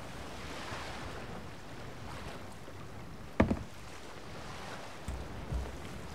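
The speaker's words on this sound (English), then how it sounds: "Water splashing." Ocean water and wind wash steadily around a ship in the pirate game Sea of Thieves, with a brief splash near the middle and a couple of softer sloshes toward the end, no one speaking.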